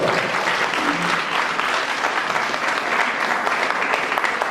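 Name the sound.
audience applause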